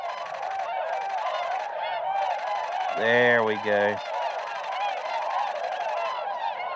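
A large flock of swans in eastern North Carolina keeps up a constant chorus of honking and bugling at a moderate distance, and one bird calls louder and closer partway through. Someone speaks briefly.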